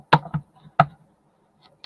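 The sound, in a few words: tarot cards being shuffled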